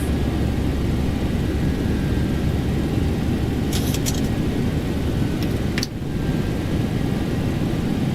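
Air India Express Boeing 737-800 climbing after takeoff in X-Plane 12, a steady loud broadband engine roar filling the whole stretch, with a few brief clicks partway through.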